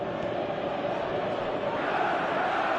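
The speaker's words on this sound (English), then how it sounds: "Crowd appreciates good football all round there." Stadium crowd noise in a football video game forms a dense, continuous roar of massed voices, steady and loud with no breaks.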